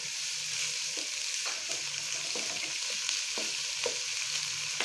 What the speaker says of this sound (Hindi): अब हम लोग इसके अंदर लहसुन अदरक का पेस्ट डाल रहे हैं। इसके बाद हम लोग इसको फ्राई करते हैं।